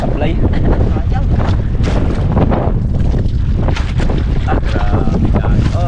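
Strong gusts buffet the microphone in loud, rough bursts, with voices talking intermittently underneath.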